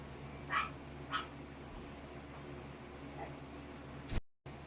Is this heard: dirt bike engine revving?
no